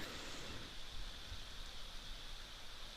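Steady rain falls at an outdoor waterhole, a soft, even hiss that continues without a break, quiet and without any voices.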